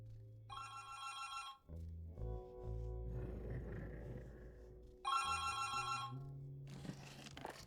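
A telephone rings in two separate bursts of bright trilling bells, with rumbling, clattering room noise between the rings.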